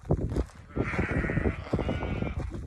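Sheep bleating near a new barn, a drawn-out close bleat rising over a muffled jumble of hooves and handling noise, with other short animal calls around it.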